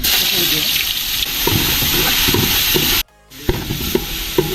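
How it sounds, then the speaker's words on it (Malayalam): Ginger-garlic paste frying in hot coconut oil with popped mustard seeds for a Kerala beef roast, giving a loud, steady close sizzle with stirring scrapes and a brief drop near the end. "ഇഞ്ചി വെളുത്തുള്ളിയുടെയൊക്കെ പച്ചമണം മാറുന്നവരെ നമ്മളൊന്ന് മൂപ്പിച്ച് കൊടുക്കണം."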